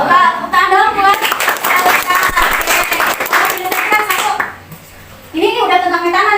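A class of children claps together in a school classroom during a lesson, a dense burst of hand-clapping lasting a few seconds between stretches of a teacher's speech.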